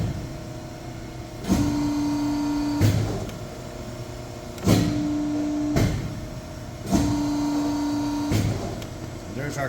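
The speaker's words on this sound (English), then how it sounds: "Now the press brake's moved into position. I'm just going to do a dry bend just to show you movement." A 10-foot, 100-ton rocker-arm press brake cycles through an empty dry bend, giving a steady hydraulic hum with a sustained tone while the ram moves and a loud clunk each time it starts and stops, repeating about three times.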